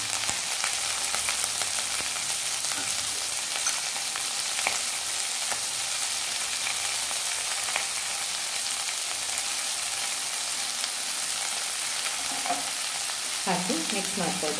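Prawns fry in a pan with turmeric powder, giving a steady close sizzle that crackles throughout, with a few clinks of stirring near the end.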